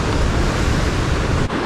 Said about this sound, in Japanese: これ波の音がさらに怖さ増幅させてるよ